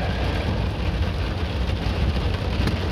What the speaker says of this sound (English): This is baby hail.